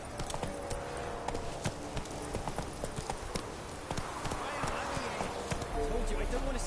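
Hoofbeats of the horse Roach in The Witcher 3 clatter in a quick steady rhythm, a galloping clip-clop close by throughout, with voices talking over it.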